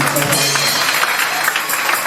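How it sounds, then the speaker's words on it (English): A church audience claps together during a service, a dense, fairly loud burst of many hands with a voice faintly audible underneath. "Can somebody clap for Jesus?"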